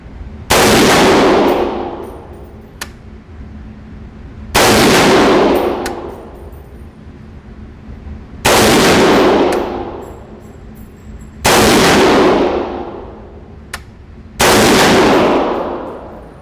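Five loud rifle shots from a PTR G3 clone, each ringing off a steel target, spaced roughly three to four seconds apart with long metallic decay tails.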